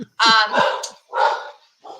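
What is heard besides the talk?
dogs barking at someone at the front door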